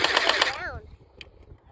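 A P90 gel blaster fires a rapid burst of gel balls in a fast, dense rattle that lasts about half a second and then stops, followed by a short faint click and quiet.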